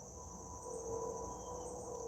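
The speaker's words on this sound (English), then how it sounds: "I hear crickets." Crickets chirping steadily in a quiet outdoor setting, a thin continuous trill over faint low background hum.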